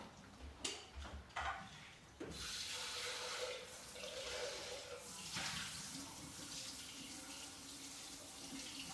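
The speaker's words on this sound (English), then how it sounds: "I'm going to rinse this off real quick" Water from a kitchen tap runs steadily over a French press being rinsed, opening with a few sharp clatters of glass and metal before settling into a continuous close splashing stream.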